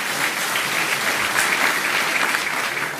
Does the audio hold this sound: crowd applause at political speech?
yes